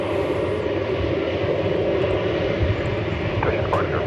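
An airplane taking off from a DFW Airport runway gives a steady, loud engine roar throughout, with faint radio-style talk in the background.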